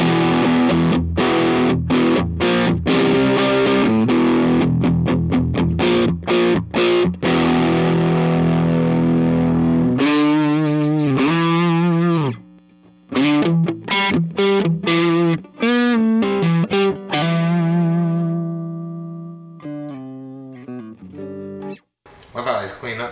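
Fender Vintera Telecaster played on the neck pickup through an overdrive pedal run in parallel, giving loud driven strummed chords and single-note riffs with short pauses, continuous and close.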